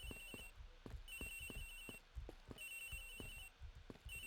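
Inside a locker in the Ace Attorney Investigations video game, a cell phone rings in a repeating electronic tone, pulsing in regular bursts over soft rhythmic thudding, steady and fairly quiet.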